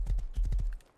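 A horse in the video game Rust trots with a quick series of clip-clop hoofbeats, close and fairly loud, fading out at the end.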